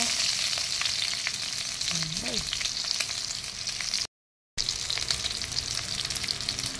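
Chicken sizzles and crackles in a pan while frying for a home-cooked hamonado, a continuous close frying hiss with a short break and a brief utensil squeak.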